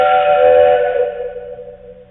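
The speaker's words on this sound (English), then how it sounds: "an audio file that records a train whistle" A loud train whistle sounds one sustained, chord-like blast that holds steady, then gradually fades over about two seconds.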